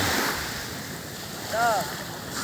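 Sea waves rolling onto a beach at a resort in Bataan, a steady wash of surf mixed with wind buffeting the microphone, with a brief voice rising over it near the end.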